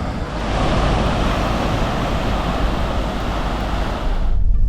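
Ocean surf breaking on a soft-sand beach at Esperance, Australia, a loud continuous wash of waves close by with gusty wind noise, surging again at the end.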